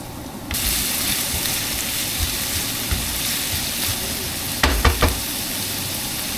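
Onions for empanada filling sizzle steadily in a hot pan, a continuous close frying hiss that starts abruptly, with a couple of brief clanks or stirring knocks near the end and no talk.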